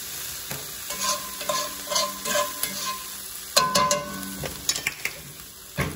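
Salmon frying in a pan, a constant close sizzle with repeated scraping and clinking of a utensil against the pan at an uneven rhythm, heard alone without talk.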